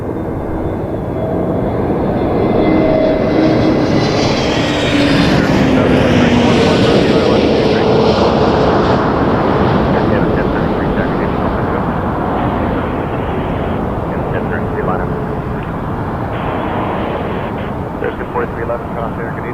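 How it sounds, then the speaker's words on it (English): A TAP Air Portugal Airbus A321neo roars past at Toronto Pearson Airport, a loud, sustained jet rumble with a rising then falling whine that fades slowly, while a voice speaks faintly underneath. "Tap Air Portugal 321 Neo."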